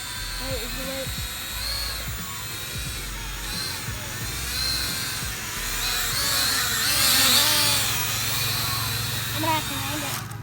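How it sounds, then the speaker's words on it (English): An X Pro quadcopter drone's high-pitched whine hums steadily with shifting pitch throughout, moderately loud, while people talk over it. "It's a great spy drone because it's not that loud."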